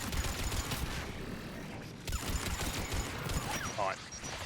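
Rockets fired by enemies in the video game Mass Effect 3 burst in repeated dense volleys of thuds and blasts, mixed with game effects and a talking voice.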